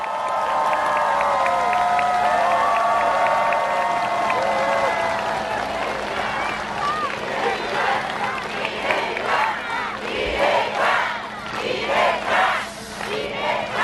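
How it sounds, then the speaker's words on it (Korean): A large crowd at a 2025 Democratic Party presidential campaign rally in Sejong cheers and shouts continuously, with scattered clapping and whistles swelling in waves throughout. "여러분 박수 부탁드립니다."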